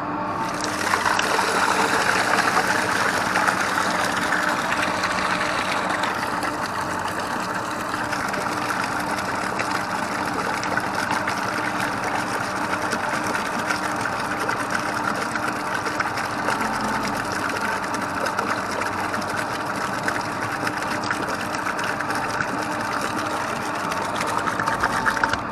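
A tractor engine idles in a steady, even rumble with a busy mechanical whir, heard close from inside the cab on a cattle farm while hay bales are spread as bedding.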